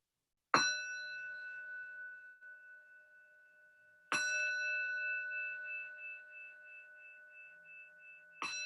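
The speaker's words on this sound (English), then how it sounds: "ending the practice when you can no longer hear the sound of the bell." Three bell strikes, each a bright metallic ring with long sustained overtones that slowly fade before the next strike; clear and alone in a quiet space.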